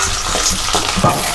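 Onions dropped into a hot pan with dried red chillies begin to fry, giving a close, soft sizzle and stirring noise over a short moment.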